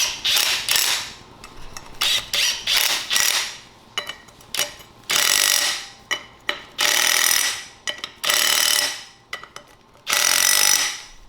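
A hand ratchet clicks in quick bursts, tightening the bolts on a motorcycle sprocket, with loud close-up rasping runs separated by brief pauses.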